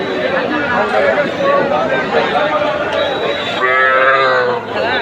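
A young calf moos at a busy cattle market, one drawn-out low call near the end. A crowd chatters and people talk throughout.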